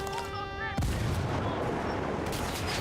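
A frag grenade explodes in the video game Ghost Recon Wildlands, a sudden loud blast cutting off tonal game sounds and leaving a long rumbling, crackling decay.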